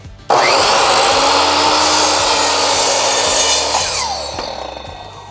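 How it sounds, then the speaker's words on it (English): A Bauer 10-inch sliding miter saw makes a compound bevel cut in wood: the motor whines up suddenly, a loud rasping cut runs about four seconds, then the blade spins down and fades. "This time I'll make sure I'm well clear of the blade, which I appear to be. Let's do a compound bevel."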